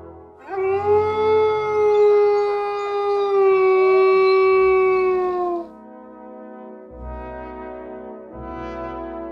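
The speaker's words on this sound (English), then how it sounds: "The wolf says owooooo." A single long, loud wolf howl rises and sustains for several seconds before trailing off, followed by quieter low rumbles.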